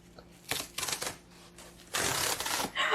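Plastic shrink wrap is peeled off a new vinyl record album in close crackling, tearing bursts. A few short rips are followed by a longer, louder pull.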